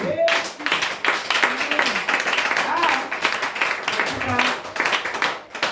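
A church congregation claps in a steady rhythm while voices call out and sing over it, the claps sharp and regular throughout.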